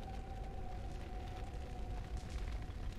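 Fire in the video game Dragon Age: Origins makes a steady, loud roar of rumbling flames with a low crackle and a faint tonal hum underneath. It holds constant throughout with no talking.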